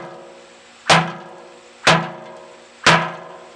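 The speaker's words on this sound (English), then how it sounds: "I'm gonna try to take four or five whacks on this stick right here so you can see the difference between it." Standard army machete whacking a stick: three sharp, loud chopping impacts about one second apart, each with a short ringing decay, no talk.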